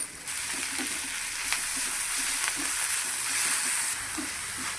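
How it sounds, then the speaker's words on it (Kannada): Mint and coriander leaves fry in a kadai for a chicken green masala, producing a continuous close hissing sizzle with faint scraping stirs underneath and no talk. "ಇವಾಗ ಇದಕ್ಕೆ ಪುದೀನ ಹಾಗೆಯೇ ಕೊತ್ತಂಬರಿ ಸೊಪ್ಪನ್ನು ಆ್ಯಡ್ ಮಾಡ್ಕೊಂಡಿದ್ದೇನೆ. ಇವಾಗ ಇದನ್ನು ಹಸಿ ಸ್ಮೆಲ್ ಹೋಗೋ ತನಕ ನಾವು ಫ್ರೈ ಮಾಡ್ಕೋಬೇಕು."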